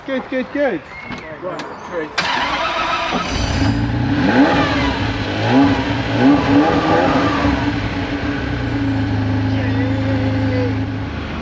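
A Ferrari engine cranks and catches, then settles into a loud, steady idle with a few revs, close by, while people talk over it early on. The car is running again after rat damage.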